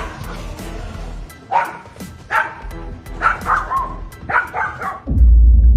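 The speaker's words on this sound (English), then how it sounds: "Dogs attack each other." Dogs bark and yelp in a series of sharp, loud bursts while fighting each other during a walk, close and agitated, ending in a heavy rumble of noise.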